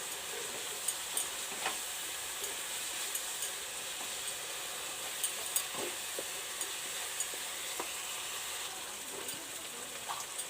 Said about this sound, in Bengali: এবার দেবো হলুদ দিয়ে আমি ভালো করে মশলাটা কষিয়ে নেব।